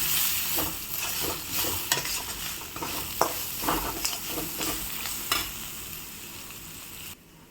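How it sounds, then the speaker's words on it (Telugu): Spices with turmeric and coriander powder frying for Rayalaseema tomato rasam, with a close, crackling sizzle and repeated spatula scrapes as they are stirred. The sound cuts off abruptly near the end. "ఇందులోనే 1/2 స్పూన్ ధనియాల పొడి కూడా యాడ్ చేసుకొని ఫ్రై చేసుకోవాలి."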